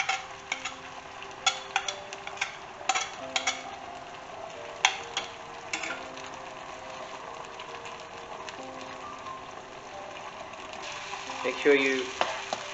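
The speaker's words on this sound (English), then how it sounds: "I've used 1 onion, which I'm frying it" Onion fries in a pan for chicken biryani, a soft, constant sizzle under a few scattered clinks and stirring taps, with someone speaking briefly.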